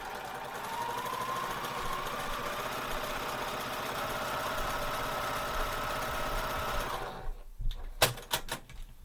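Sewing machine stitching a quilt block, running as a steady continuous mechanical hum for about seven seconds, then stopping, followed by a few sharp clicks and taps.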